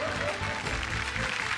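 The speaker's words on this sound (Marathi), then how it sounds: "जोरदार टाळ्या होऊन जाऊ दे." A studio audience at a Marathi TV game show claps together in a brief, dense burst of applause that stays steady throughout.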